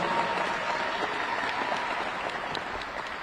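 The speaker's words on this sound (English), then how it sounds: "give her a round of applause" An audience applauds a women's basketball coach at a university press conference, with steady, dense clapping throughout at moderate volume and faint crowd murmur.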